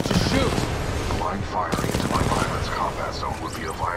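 Rapid automatic gunfire and explosions in the video game Titanfall 2, dense bursts of shots close and loud throughout, with a player's excited voice talking over the action.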